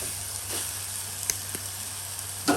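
Jackfruit seeds boil in a pot on the stove, giving a faint, steady sizzling hiss and low hum with a few soft clicks and pops, with no voices over it.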